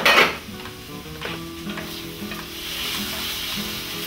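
Garlic and onion stir-frying in a small wok, a loud continuous sizzle with a sharp initial burst and repeated spatula scrapes and stirring strokes, no voices.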